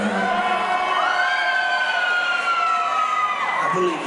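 Crowd at a King of the Ring wrestling event roars and cheers loudly and continuously, a dense wall of shouting voices with rising and falling whoops and screams.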